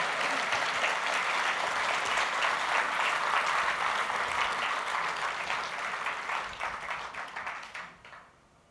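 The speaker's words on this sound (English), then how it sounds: "You should clap now." An audience at a YOW! conference talk applauds after the presentation, a full, sustained burst of many hands clapping that holds steady, then thins and fades out near the end.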